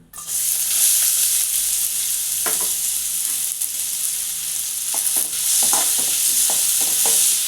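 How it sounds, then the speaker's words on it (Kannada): Onions tipped into hot oil in a pan for an egg palya sizzle loudly and steadily, with scattered scraping taps of stirring across the frying hiss. "ಎಣ್ಣೆ ಕಾಯ್ದೈತೆ ಈರುಳ್ಳಿ ಹಾಕ್ತಾಯಿದ್ದೀನಿ"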